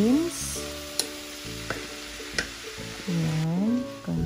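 Carrots and green beans hit a pan of cooked beef, sizzling steadily with a few stirring knocks, while background music plays throughout.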